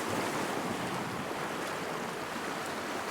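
Sea waves surge and wash at Sully Island as the tide floods back in a strong eddy toward a spit, a steady broadband roar of surf with wind buffeting the microphone throughout.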